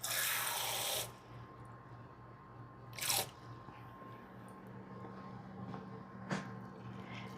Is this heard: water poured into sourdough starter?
yes